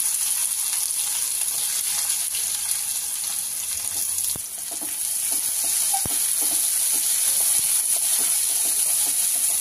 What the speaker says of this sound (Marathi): बघा आता आपल्याला चांगले कांदे परतून घ्यायचे आहे।